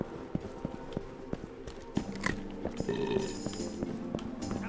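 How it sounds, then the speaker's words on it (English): Hooves clip-clop in the Rustler video game as a horse moves along, with irregular close hoof knocks over a busy bed of game ambience and small clatters. "Horse riding activity. Let's do a horse riding activity."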